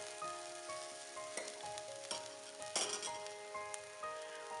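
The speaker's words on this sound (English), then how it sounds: "You don't have to cook too much, just stir fry." Fenugreek leaves (methi) are stir-fried in a pan, with a constant quiet sizzle broken by several scraping stirs and light clinks of a utensil, near and without voices.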